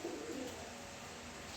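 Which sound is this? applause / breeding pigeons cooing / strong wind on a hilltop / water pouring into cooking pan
breeding pigeons cooing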